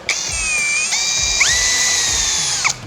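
A 42V cordless drill whines loudly and steadily, its pitch dipping and rising as it bites into thick steel, close up with no talking.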